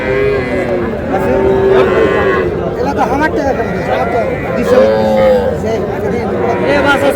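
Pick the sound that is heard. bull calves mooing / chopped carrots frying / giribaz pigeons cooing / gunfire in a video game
bull calves mooing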